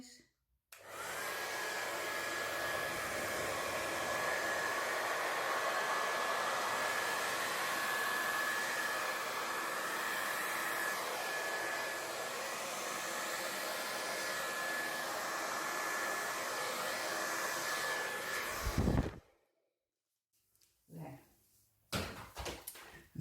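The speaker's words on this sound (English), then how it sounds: "So this is my hairdryer that I've been using and it's been working lovely so far." A hairdryer blows steadily and loudly at close range for about eighteen seconds, used to dry DecoArt 24k gold paint in a gold and burgundy bloom craft piece, then cuts off, followed by a few faint handling knocks.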